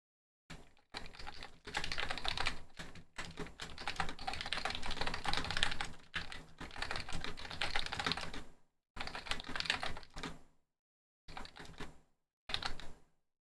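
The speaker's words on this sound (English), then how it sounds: "I'm gonna type this in a notepad because I forgot this is typing so slow" Someone types on a computer keyboard in quick clattering bursts of keystrokes, separated by short pauses, close and fairly quiet with no talking.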